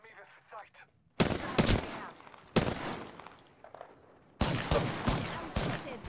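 Gunfire in the video game Apex Legends, loud bursts of rapid automatic fire in three long volleys with brief gaps, sharp and close, over quieter game noise at the start.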